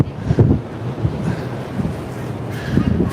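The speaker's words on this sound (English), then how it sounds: "even though the wind's blowing from the back, it's a little rough." Wind blows across the deck of the NCL Aqua cruise ship in fog, coming from behind and roaring in gusty bursts against the microphone with no talking.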